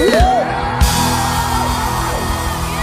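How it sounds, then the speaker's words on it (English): Church congregation at a lively praise service screaming and cheering, a dense, loud wall of crowd voices with shouts and whoops rising above it throughout. "Let me hear you scream."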